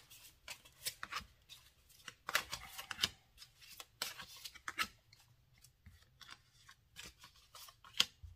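Tarot cards drawn and laid down over other cards, producing a run of quiet, crisp snaps, slides and rustles in an uneven rhythm, close and soft, with no talking.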